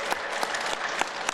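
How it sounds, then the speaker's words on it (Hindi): An audience at a Swami Ramdev yoga session claps in a dense, continuous burst of applause, close and lively throughout. "इनके लिए एक बार जोरदार ताली बजा"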